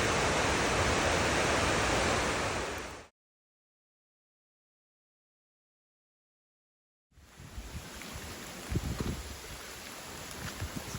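A swollen waterfall on a rainy Foothills Trail hike roars as a loud, dense, steady rush, cuts to silence for a few seconds, then returns as a softer, rougher wash of water noise.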